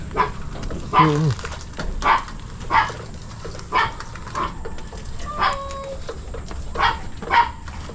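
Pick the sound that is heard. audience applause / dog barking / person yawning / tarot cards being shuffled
dog barking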